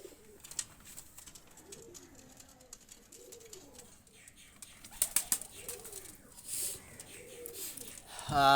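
Two Pakistani high flyer pigeons are released, with soft repeated cooing throughout and a couple of brief bursts of wing flapping near the end, close by.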